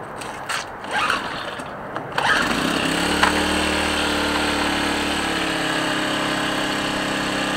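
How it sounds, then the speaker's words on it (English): A Homegeat 800-watt portable gas generator, a generic brand, sputters through a few rough attempts before catching and settling into a loud, steady running drone close to the microphone. "this is only about an 800 watt generator. Homegeat, a generic brand. It started fine too"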